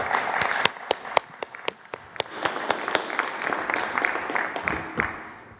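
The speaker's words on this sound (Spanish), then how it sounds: "Un aplauso." Applause at a Mexican presidential press conference, a modest round of clapping with several distinct sharp claps standing out over a softer patter, fading toward the end.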